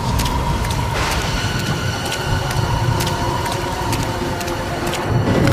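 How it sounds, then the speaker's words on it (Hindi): Heavy rain pours down steadily as a dense, even hiss that fills the whole stretch, loud and close with no talk over it. "अरे बरसात फिर शुरू हो गई।"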